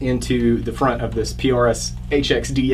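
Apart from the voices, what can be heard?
No everyday noises stand out.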